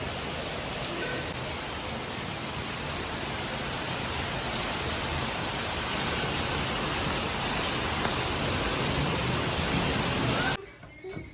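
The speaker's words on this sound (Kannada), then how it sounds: "ಫುಲ್ ಮಳೆ ಬರ್ತಾ ಇದೆ" Heavy rain pours steadily at a home on the eve of the Ugadi festival, a dense, even roar that holds for about ten seconds before cutting off abruptly.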